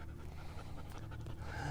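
A dog pants steadily and fairly close, with quick rhythmic breaths on an outdoor off-road outing with a four-wheel-steer moon buggy; faint rustling sits underneath.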